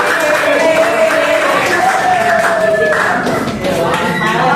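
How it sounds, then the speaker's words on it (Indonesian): High school students in a Jakarta classroom clap for their classmates, a steady, dense patter of many hands mixed with lively crowd voices throughout. "tepuk tangan dong buat teman-temannya dong ya"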